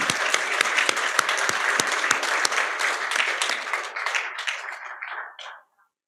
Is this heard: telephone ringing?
no